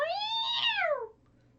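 A single loud, close cat screech rising and then falling away over about a second, heard alone with no talking, as a pirate ship's cat is fetched from the cabin.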